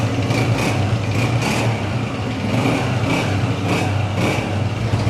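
A 2003 Honda motorcycle engine runs at a steady idle close by, a constant mid-pitched rumble with slight rhythmic pulsing throughout.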